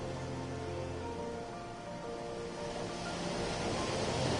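Ocean waves wash in a video game as a steady, soft broadband surf swell, rising slightly toward the end, with no talking.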